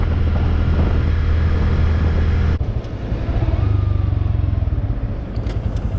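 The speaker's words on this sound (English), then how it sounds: "I'm not rev matching the downshifts yet because I'm just trying to break in this engine" A Honda Grom motorcycle ridden while its new engine is broken in, the small single-cylinder engine droning loudly, then cutting back as the rider downshifts without rev matching and the revs settle into a lower pulsing note, with wind noise and no talking.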